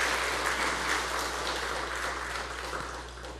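A church congregation claps to welcome a newly registered member, a moderate, continuous patter of hands over a low steady hum, slowly easing off over a few seconds.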